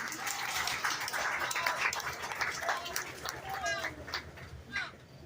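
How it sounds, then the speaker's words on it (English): Crowd at a county fair 4-H and FFA beef cattle show clapping in a steady, moderate round of applause, with a voice speaking over part of it and the clapping easing off toward the end. "So let's give them a round of applause"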